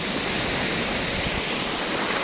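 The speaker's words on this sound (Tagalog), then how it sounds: "Ang ganda ng mga alon." Continuous roar of ocean surf, a dense wash of crashing water filling the whole moment without pause.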